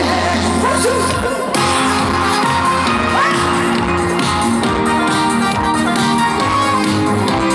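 Outdoor crowd at a canola flower festival celebration concert by the Nakdong River in Changnyeong cheers, whoops and applauds loudly and continuously, dense shouting over music with a brief dip around one second.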